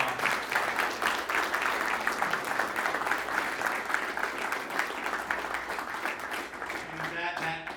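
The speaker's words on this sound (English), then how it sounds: "Please give him a round of applause." Sustained applause from a dinner-event audience in Nashville, steady dense clapping throughout at a loud, even level, with a few voices mixed in toward the end.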